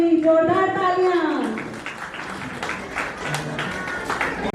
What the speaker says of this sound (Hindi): a very big hand for सुची एंड जूही, जोरदार तालियां